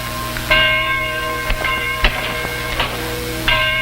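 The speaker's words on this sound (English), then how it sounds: "There's the bell." A church bell rings with long sustained metallic tones, struck several times at irregular intervals so each new strike overlaps the lingering hum of the last, heard up close without talk.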